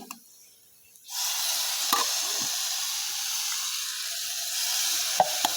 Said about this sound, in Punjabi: ਲਓ ਜੀ ਪਿਆਜ਼ ਫਰਾਈ ਹੋ ਗਿਆ ਹੁਣ ਇਹਦੇ ਵਿੱਚ ਆਪਾਂ ਸਾਗ ਪਾ ਦਿੰਨੇ ਆ